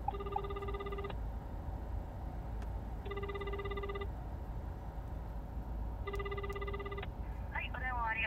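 Telephone ringback tone during an outgoing call, three evenly spaced one-second bursts of a buzzing ring about two seconds apart over steady background hiss, with a faint voice-like warble at the end.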